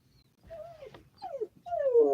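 A distressed dog whimpers and whines in a series of rising and falling cries, three drawn-out bursts growing louder toward the end, close by with no talking.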